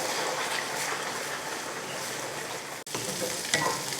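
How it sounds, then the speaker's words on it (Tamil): Eggs and chopped vegetables being stirred together in a hot frying pan for egg fried rice, a steady close-up sizzle with scraping stirs, running continuously without any talking. "இந்த மாதிரி மறுபடியும் அந்த முட்டை இந்த காய் எல்லாம் ஒன்றா சேர்ந்து இந்த மாதிரி கலந்து விட்டுறணும்"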